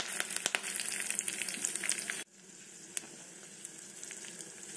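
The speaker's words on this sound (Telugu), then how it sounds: "ఇలా చిటిపట్టలు ఆడాలండి పోపు." Tempering spices with curry leaves and dried red chillies spluttering in hot oil over urad dal for dosakaya pappu, a dense crackling sizzle with sharp pops that drops abruptly to a quieter steady fry midway.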